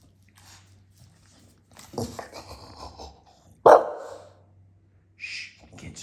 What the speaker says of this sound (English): What you barking about